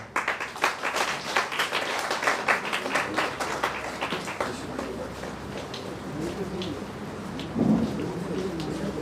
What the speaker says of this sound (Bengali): হাততালি দেবেন সবাই